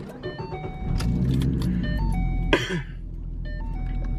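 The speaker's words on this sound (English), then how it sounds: "it sounds like I'm in a V6" A V6 car engine idles and revs steadily inside the cabin, with a brief cough partway through and faint tonal chimes on and off.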